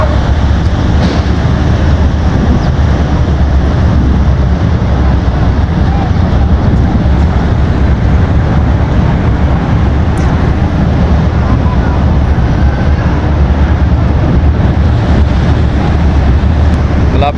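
Strong wind blows at a harbour finger pier with a large ship nearby, a loud, steady roar buffeting the microphone throughout, and voices talk underneath.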